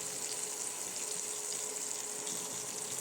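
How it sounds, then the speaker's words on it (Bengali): Chopped onions and green chilies fry in hot oil alongside slices of eggplant, giving a steady, close, continuous sizzle and crackle with no pauses. "বেগুন ভাজার সঙ্গে এগুলো ভাজা হয়ে যাবে"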